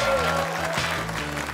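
A studio audience applauds during a Kazakh television quiz show, a brief burst of steady clapping with musical tones sounding underneath.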